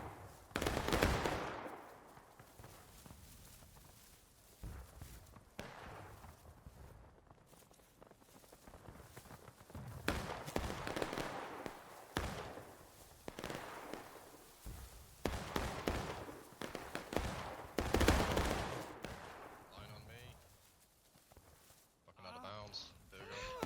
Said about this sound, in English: Those were good shots coming in from that left group of Union in front of the CSA line.